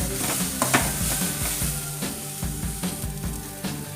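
Curry leaves and vegetables frying in a pan for a traditional Kannada-style potato and peas gravy, a steady close sizzle broken by repeated stirring scrapes and clinks, with no talking.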